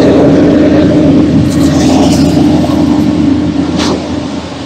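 Heavy truck engine running loud and steady throughout, with a rising rev in the middle and a slight drop near the end, no voices over it.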